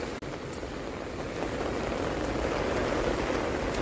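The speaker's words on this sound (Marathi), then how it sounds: "हे बघा पाणीचा किती प्रवाह आहे आज. कर्जतला एवढा पाऊस पडतोय." Heavy monsoon rain pours in Karjat beside fast-flowing water, a dense steady roar that swells slightly after the first second and continues unbroken and close.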